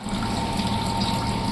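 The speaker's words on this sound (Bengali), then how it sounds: "জল দাও, অল্প একটু জল দেবো" Water pours into a cooking pot in a home kitchen, a steady, soft gushing stream heard close by and alone, with no talk over it.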